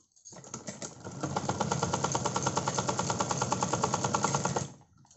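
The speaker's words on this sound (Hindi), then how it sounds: "अब हम दूसरी साइड से सिलाई लगाएंगे" A sewing machine stitching a fabric strip along a neckline, giving a steady, fast, rhythmic clatter of needle strokes that starts up, holds an even pace for about four seconds, then stops, close and moderately loud with no speech.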